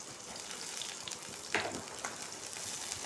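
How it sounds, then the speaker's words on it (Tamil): Onion sautés in a pan with fennel and cumin for a brinjal fry, a soft continuous sizzle with a brief louder crackle as ingredients are stirred. "அதையும் போட்டு வதக்கிடுறேன்."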